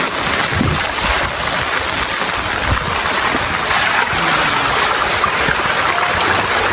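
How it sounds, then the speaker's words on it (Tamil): Floodwater streaming fast along a road in Jaffna, a continuous rushing, gurgling wash with heavy rain hiss layered on top, steady and close. "ரோட்டால் எப்படி ஓடுன்னு பாருங்க"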